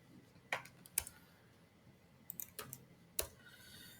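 Registration details typed on a computer keyboard, a few sparse, faint clicks and key taps scattered irregularly in a quiet room, alone without talk.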